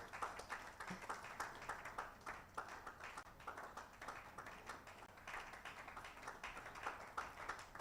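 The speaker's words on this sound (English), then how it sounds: "Thank you so much for those of you who really clapped till the end." Continuous applause from a big audience at a university honorary doctorate conferment ceremony in Lagos, Nigeria; many hands clap in a thick, even wash that carries on steadily, with small surges in intensity.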